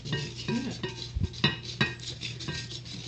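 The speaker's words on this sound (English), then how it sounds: "And you continue stirring it." Apple cake batter stirred with a spoon in a bowl, giving soft repeated scraping strokes and light clinks against the bowl side, close and steady, with no talk.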